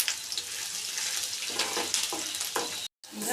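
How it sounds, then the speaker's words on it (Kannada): Ginger garlic paste sizzling in hot oil with green chillies in a pan for egg masala, a close, steady crackling hiss with a few stirring scrapes and a brief break near the end. "ಈಗ ಶುಂಠಿ ಬೆಳ್ಳುಳ್ಳಿ ಪೇಸ್ಟ್ ಹಾಕ್ತಾ ಇದ್ದೀನಿ."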